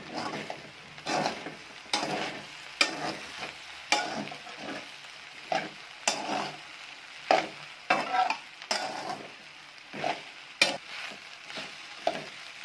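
Sabudana khichdi is stirred in a pan over fast-fading sizzle, with repeated scraping strokes of a spoon against the metal in an uneven rhythm, close and moderately loud, with no voices.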